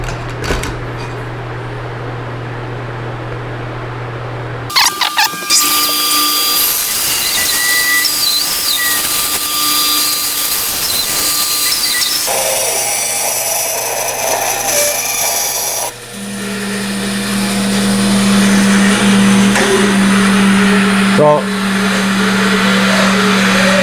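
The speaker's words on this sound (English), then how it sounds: "So I'm going to cut it out on the bandsaw just to get it close to the line." A bandsaw cuts out a wooden pattern piece for a Chippendale slant front desk, a steady whining motor hum with the blade's loud rasp through the wood, shifting in pitch as the cut changes.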